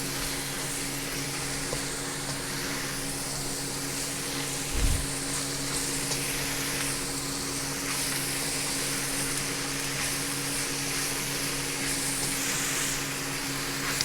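Lemongrass and beef stew ingredients sizzling steadily in a pot, a constant close hiss of frying with one brief low knock partway through, no talking.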